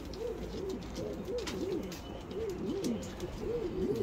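Pigeons at a loft coo in a steady run of rolling, throaty calls, one after another, heard close and fairly quiet over a soft background hiss with no talking.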